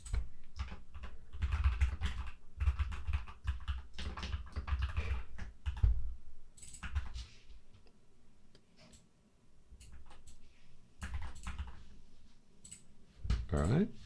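Code being typed into the Godot game engine on a computer keyboard, bursts of rapid clicky keystrokes with short pauses between runs, close and fairly quiet, with a voice talking in between.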